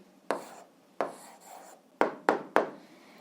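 A pen scratches out an answer by hand on paper in a handful of quick, distinct strokes, each a brief scraping rasp, heard close and fairly quiet with no voices.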